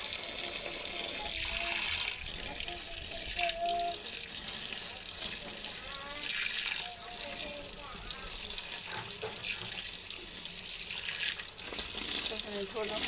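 Karmada bhaji greens being rinsed under a running tap, a steady broadband splash and trickle of water throughout, with dishes or leaves clinking now and then and a voice talking faintly in the background.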